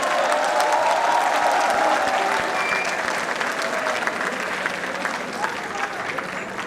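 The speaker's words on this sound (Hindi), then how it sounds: "तो अपने लिए एक बार जोरदार तालियां बजा लीजिए।" Graduates applauding themselves at an annual degree distribution ceremony, a loud, dense wash of clapping from a large hall crowd that eases off slightly over time, with faint voices mixed in.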